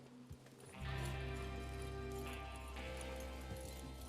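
Horses set off at a ride in Red Dead Redemption 2, with hoofbeats and movement rising out of a dense, steady game soundtrack that swells after the first second and stays loud.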